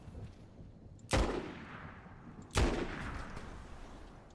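A small pistol fires twice in a Fortnite ranked match, two sharp, loud reports about one and a half seconds apart, each trailing into a brief echoing decay.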